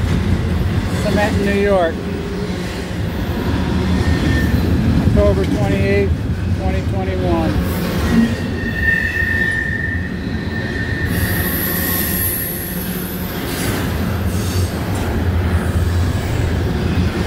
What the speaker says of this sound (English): Two CSX. One head south, one pulling north.